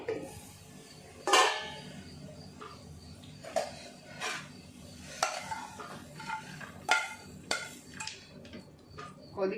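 A spatula scrapes and clinks against a pan as crispy okra stir-fry is sautéed over low heat, irregular metallic knocks over a faint sizzle, close and moderately quiet.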